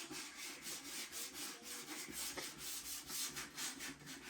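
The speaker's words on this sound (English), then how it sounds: "Right, this is the part where you sand it." Sandpaper rubs by hand across primed MDF board in steady back-and-forth strokes, a close rhythmic scratchy rasp with no talk.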